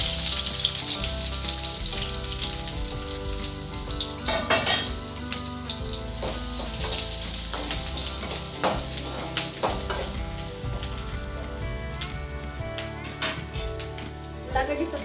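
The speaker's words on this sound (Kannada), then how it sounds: "ಈಗ ಉಳ್ಳಾಗಡ್ಡಿ ಹಾಕೋಣ." Chopped onions fry in hot oil in a pan for a bitter gourd curry, a continuous close sizzle broken by scraping stirs and utensil clinks, with a voice talking over it.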